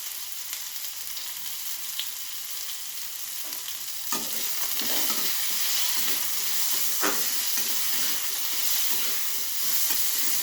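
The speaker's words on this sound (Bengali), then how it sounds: "কুমড়োটা আমার খুব ভালোভাবে ভাজা হয়ে গেছে" Steady sizzling of pumpkin frying in a pan, with occasional scraping stirs and clinks of a spatula throughout.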